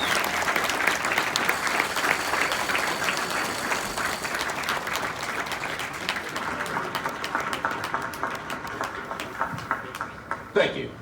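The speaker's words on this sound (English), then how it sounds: "a round of applause for their dedicated service to Corps and country" An audience at a Marine Corps graduation ceremony claps in sustained, dense applause that holds steady for several seconds before thinning out toward the end, with a few scattered claps left.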